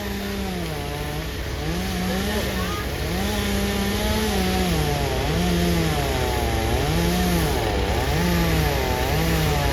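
A chainsaw runs loudly and without pause while cutting down a tree, its engine pitch rising and falling repeatedly as it bites into wood.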